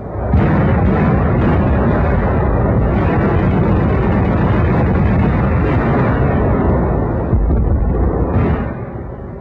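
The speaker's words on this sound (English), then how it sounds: "Anti-aircraft guns were fired point blank as anti-tank guns until they were overrun." Anti-aircraft guns fire in WWII newsreel footage from the Battle of the Bulge. A dense, loud, continuous roar of booming blasts, muffled and rumbling, fills the clip without speech.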